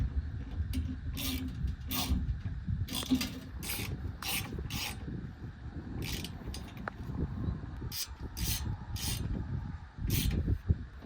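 Tightening the front bolt on a sliding Molle panel in a 2015+ Ford F-150: a steady close rasping, ratcheting wrench rhythm with repeated sharp metallic clicks, running continuously with a faint voice in the background.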